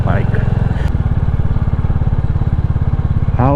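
A motorcycle engine pulses steadily and close by in a relaxed, easy cruise, its low rhythmic thump continuous throughout, with a person talking over it at the start and end.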